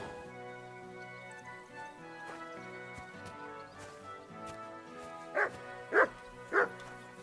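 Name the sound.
dog barking in a video game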